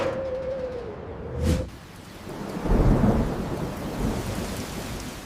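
A thunderstorm with heavy rain on a construction site, steady hiss of rainfall broken by a sharp crack and then a deep rolling rumble of thunder that swells and fades, loud and close, no voices.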